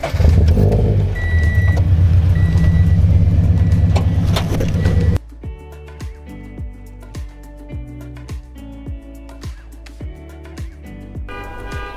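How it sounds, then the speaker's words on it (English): A Subaru BRZ engine idles loudly nearby at first, a steady low rumble, then cuts off, leaving a repeating car alarm sounding in the background. "I gotta turn my car on for this one."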